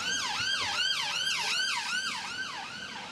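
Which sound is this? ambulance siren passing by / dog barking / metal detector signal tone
ambulance siren passing by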